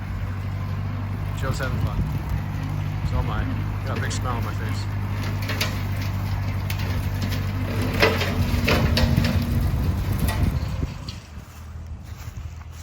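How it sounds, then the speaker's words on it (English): A tractor drives along a freshly cleared trail through the woods. Its steady, low engine drone runs continuously beneath a man's chatter, then drops away sharply near the end, leaving quieter background noise. "But now it's just driving a tractor through the woods almost."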